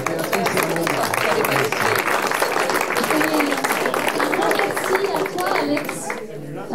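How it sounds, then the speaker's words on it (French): An audience at a conference evening breaks into sustained applause for two women, a dense steady patter of many hands filling the room, with voices mixed in underneath. "on applaudit surtout Béatrice et Amanda"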